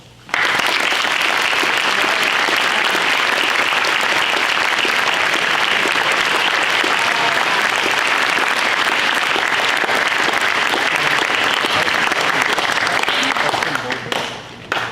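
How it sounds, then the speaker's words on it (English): A graduation audience at a collegiate ceremony gives a long, loud, sustained round of applause from many hands, with cheering voices mixed in before it fades near the end. "we give a huge round of applause to these people"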